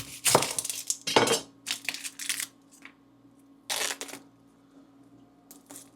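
An onion being chopped on a cutting board in a home kitchen during weekly meal prep, giving a few sharp, close knife strikes in separate bursts with quiet pauses between them.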